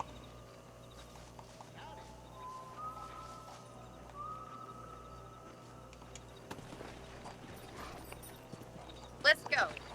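A horse being ridden in Red Dead Redemption, hooves clip-clopping faintly under a low game hum and a sustained tonal note, with a louder burst of hoofbeats and rustle near the end.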